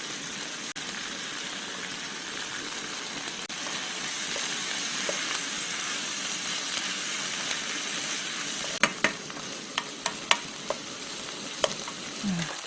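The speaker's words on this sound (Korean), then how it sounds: "이렇게 나물 여러 가지를 해도 금방 이렇게 준비해 놓으면 볶는 건 금방 볶지" Seasoned vegetables (namul) being stir-fried in a pan for a Korean full-moon holiday dish: a steady, close sizzle runs throughout, with sharp clicks and scrapes of a utensil against the pan near the end. No one speaks.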